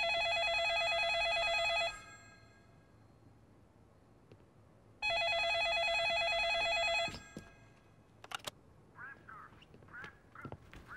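Telephone ringing in a home, two long loud electronic rings separated by a pause of quiet, close by, followed by faint clicks and a brief muffled voice.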